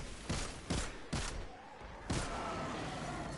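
Four heavy gunshots from a powerful gun in the video game Destiny, spaced irregularly with booming low-end tails, loud and close, with no talking over them.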